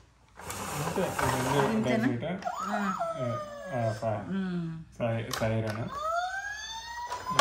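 A toy fire truck sounds its electronic siren nearby, with rising and falling wailing tones and sweeping whoops in several bursts separated by short gaps.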